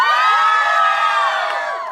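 Haldi ceremony guests from the groom's side shout and cheer together on cue, a loud, sustained crowd roar with whoops and high voices rising over each other, easing off slightly toward the end.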